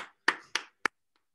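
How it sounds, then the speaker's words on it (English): Applause after project presentations: three sharp, close hand claps spaced about a quarter second apart, each ringing briefly before cutting off into silence. "Everybody give him another round of applause."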